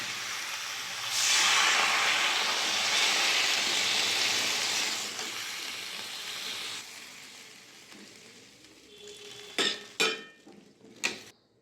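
Water poured onto vegetables sautéed with spices for dudh shukto bursts into a loud hissing sizzle that slowly fades, followed by a few sharp clinks of metal utensils against the pot.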